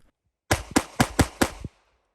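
A Glock 48 pistol fired fast, five sharp, loud shots in quick even succession, close by, with a short silence before and after.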